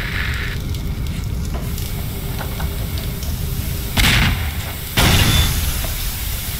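A building fire in the Half-Life 2 mod Nightmare House 2 burns with steady crackling and hissing, broken by two sudden, louder bursts of flame or debris, with no talking.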